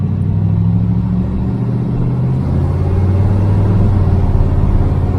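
A 1948 Ford F1 custom panel truck driving over a potholed road, its engine rumbling loud and close with a pitch change as the transmission shifts, no talking.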